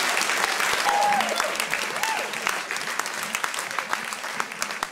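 Audience applause fills a comedy club for about five seconds, steady dense clapping that slowly thins, with a brief voice rising over it.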